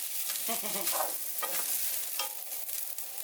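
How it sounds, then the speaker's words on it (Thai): Sliced kaffir lime leaves are stir-fried for a tom yum filling, making a soft, steady sizzle broken by close scraping stirs at an uneven rhythm, with no talking. "ใบมะกรูด ซอยลงไปผัดเลยค่ะ"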